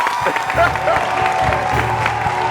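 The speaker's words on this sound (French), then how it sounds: "Bravo, on fait du bruit s'il vous plaît pour Ludivine." An audience at a rap battle claps and cheers while a voice speaks over it, with a steady thumping beat in the background.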